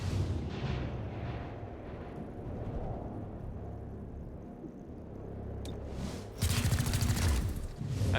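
Weapons fire at an android in the tactical game Chimera Squad. Booming, rumbling shots roll on through the whole clip, and a heavier loud burst comes near the end.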